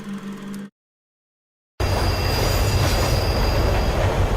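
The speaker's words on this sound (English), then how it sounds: "Train system's the fastest in the city." A city train in a science-fiction audio drama rumbles steadily and loudly with a wheel squeal, starting abruptly after a brief silence and continuing without speech.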